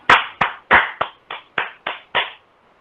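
A small Toastmasters session audience gives a brief, sparse round of applause, about eight distinct separate claps in a slow steady rhythm, close and clear with no talk.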